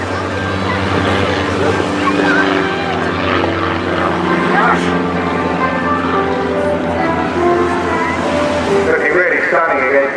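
Composite single-seat aerobatic aircraft performing at a seaside airshow, its propeller engine droning and shifting pitch continuously as it manoeuvres overhead, with a commentator talking over it throughout.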